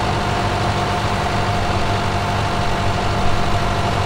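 Steady tractor engine in Farming Simulator 2017 running under load while pulling a seeder up a hill, a continuous low rumble with droning tones, loud and close, with no talk.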